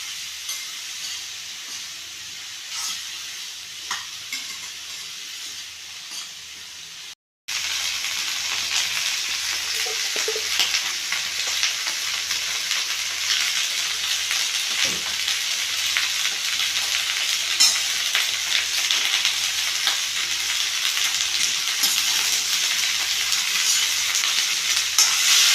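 Bitter gourd sautéing in a pan for a Tamil bitter gourd kuzhambu, giving a steady, fairly loud sizzle and frying hiss that briefly cuts out near the start, then carries on unbroken.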